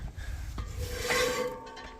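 A scraper on a white 271 pasture harrow rubs hard in a dry, rasping scrape with a rising grind and faint squeals, close and steady, with no voices.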